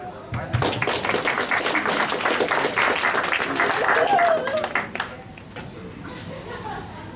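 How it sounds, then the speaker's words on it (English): An audience at a Chithirai Kondattam celebration breaks into applause that holds for several seconds and then stops abruptly, leaving a quieter room with some talking. "we should take this opportunity to applaud them for that"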